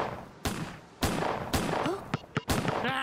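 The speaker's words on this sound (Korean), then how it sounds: "첫 번째 미션, 사격 실력을 보여줘요" Gunfire rings out during a Grand Theft Auto shooting mission, four or five loud, sharp reports spaced about half a second apart, with game ambience and a faint tonal effect between shots.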